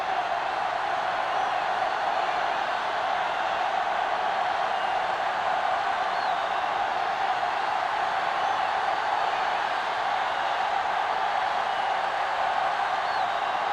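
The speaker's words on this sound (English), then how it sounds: "the crowd in full throat as we get this new season started with the kickoff" A stadium crowd in a football video game at the opening kickoff, giving a steady, dense roar of cheering that holds at an even level from start to finish.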